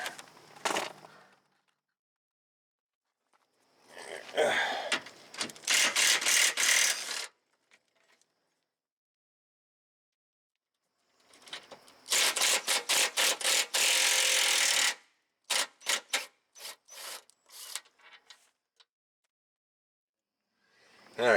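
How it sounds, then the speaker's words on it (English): Manual wrench turning bolts on the steering rack of a 2012 Subaru Outback 2.5L, heard as bursts of quick ratcheting clicks separated by quiet pauses, close and fairly loud. "Okay, manual wrench time."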